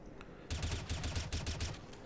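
Rapid automatic gunfire in a CS:GO horror map, a tight burst of about a dozen evenly spaced close shots lasting over a second and a half, heard alone without talk.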